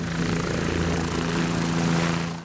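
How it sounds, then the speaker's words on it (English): A helicopter flies over the Columbia River near a temporary landing zone by Bonneville, its rotor and engine a loud, steady close roar throughout. "this helicopter crew heads for a temporary landing zone"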